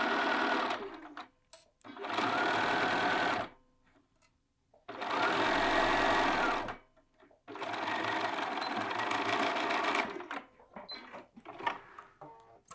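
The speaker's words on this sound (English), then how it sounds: "Now we're going to head over to the machine and we're going to sew our underarm seam." A sewing machine stitches a sleeve underarm seam in bursts of rapid, loud mechanical whirring, about four runs of a few seconds each separated by short quiet pauses, with lighter clicks and handling noise toward the end.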